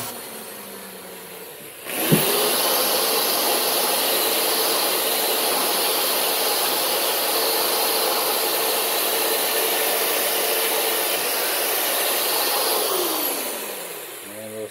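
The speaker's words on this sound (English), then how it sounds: "All I did is run it with that sander for just a hot second" A power sander whirs against a knife edge during sharpening. It starts abruptly with a clunk, holds a loud steady grinding whine for about ten seconds, then winds down near the end.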